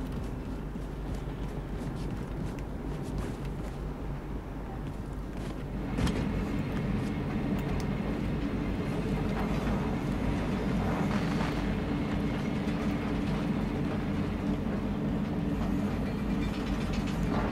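Moving train in Wolfenstein II, a steady low rumble with rattling carriages that swells louder about six seconds in and keeps going without break.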